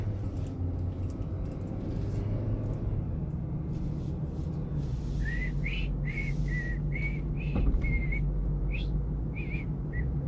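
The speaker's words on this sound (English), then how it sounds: "Quit whistling, pay attention." Inside a moving car, a person whistles a short run of clear, tuneful notes in the second half, heard close over a steady low road and engine rumble.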